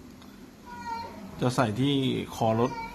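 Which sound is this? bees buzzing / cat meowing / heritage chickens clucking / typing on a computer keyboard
cat meowing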